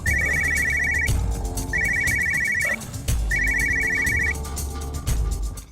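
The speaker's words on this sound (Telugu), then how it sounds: "నీకు ఫోన్." A phone rings with an electronic ringtone in three repeated bursts, each about a second long, separated by short gaps, over a steady busy background.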